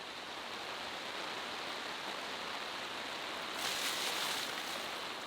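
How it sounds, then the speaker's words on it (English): A heavy outdoor downpour fills the air with dense, continuous broadband hiss, loud and unbroken, briefly intensifying near the end, with no voices. "It's it's horrible downpour"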